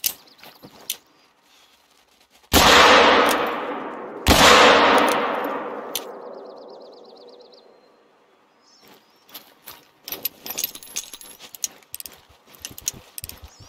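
Two loud, sharp pistol shots about two seconds apart, each trailing off in a long echoing decay, in the hunting game Call of the Wild during a Yukon bison hunt. Fainter clicks and small mechanical sounds follow.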